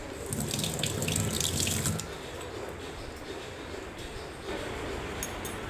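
A spoon is rinsed under a running kitchen tap, with water splashing steadily into the sink, louder for the first two seconds, then a softer continuous flow.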